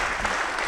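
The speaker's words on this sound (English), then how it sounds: "A round of applause for her." At a Gambian poetry slam quarter-final, a crowd gives a brief, even burst of clapping to welcome a woman poet to the stage.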